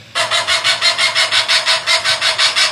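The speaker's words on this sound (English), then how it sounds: "These buggers are called cuckoo birds" Cuckoo birds calling in Australia: one close, loud, harsh call repeated rapidly in a steady pulsing series of about fourteen notes, with no other sounds.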